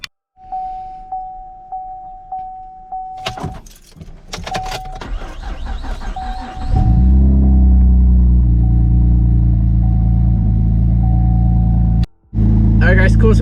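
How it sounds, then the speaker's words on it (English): A car with a dead battery is started after a jump start: keys jangle and a chime repeats, then the engine cranks and catches into a loud, steady idle rumble close by, with brief talk early on. "go ahead and start the car that has a dead battery"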